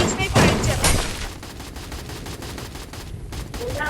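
Dense, loud gunfire crackles through a shooter video game battle, sustained volleys of shots filling the whole stretch, with voices faintly mixed underneath.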